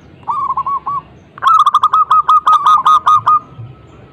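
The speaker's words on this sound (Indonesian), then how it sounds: "terbangun mendengar suara dengkungan perkutut putihnya di tengah malam" A white zebra dove (perkutut) coos at night, giving a short series of soft rhythmic notes, then a longer, louder run of evenly spaced cooing phrases, close and clear with nothing else heard.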